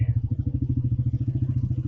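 A motorcycle engine idles just after starting on a mountain route, a fast even low thumping pulse held steady throughout, close and loud.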